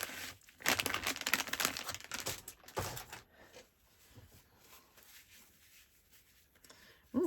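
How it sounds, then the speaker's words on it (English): A baby wipe is pulled from its packet to clean ink-stained fingers while stamping a card. A loud, close burst of plastic crinkling and rustling lasts about three seconds, then fades to quiet handling noise. "I'll just grab a baby wipe, get rid of that."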